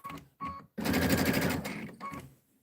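A sewing machine stitches a scrappy quilted pillow back in short close bursts, two quick runs, a longer steady stretch, then another brief burst, with a rapid rattling needle rhythm.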